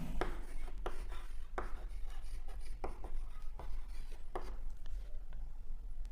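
Pen or chalk writing out a math equation for a Class 10 reciprocal equations lesson, a quiet run of short scratchy strokes and taps with no talking.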